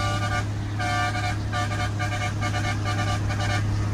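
A scooter horn honks in the rain in repeated short toots, loud and close over a steady engine drone and road noise.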